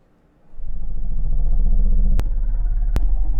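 A dark horror-style ambience pitched down very low rumbles steadily and loudly, thick with bass. Two sharp digital clicks break through near the end.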